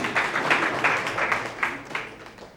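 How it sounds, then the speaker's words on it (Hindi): An audience at a spring poetry gathering in Shikohabad claps at moderate volume for a few seconds in uneven bursts that swell and fade. "वाह नहीं, ताली बजाओ हैं।"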